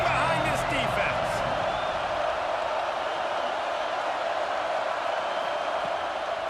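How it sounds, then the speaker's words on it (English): A packed football stadium crowd roars steadily for the defense on a big third down in the red zone, with Ole Miss on the field: a dense, sustained wall of cheering that stays loud and even throughout. "this crowd is getting behind this defense"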